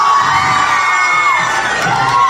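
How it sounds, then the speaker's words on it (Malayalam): Crowd at a large celebration cheering and shouting with high-pitched whoops, a dense, loud and steady wash of voices with no clear clapping beats. "കൊട്ടാരക്കാർക്ക് ഒരു വലിയ കയ്യടി."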